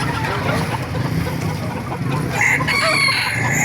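Chickens cluck and roosters crow at a busy poultry market in Baliuag, Bulacan, a dense nearby chorus of overlapping crows and clucks with faint crowd murmur beneath.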